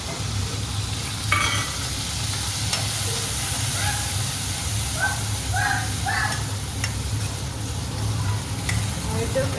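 Tomatoes added to onions frying in a pan for a Gujarati kaju gathiya curry, sizzling steadily throughout with occasional stirring scrapes and a constant low hum underneath.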